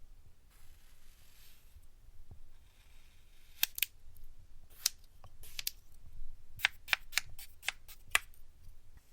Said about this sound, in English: lots of people talk about how it makes a really good sound when you cut it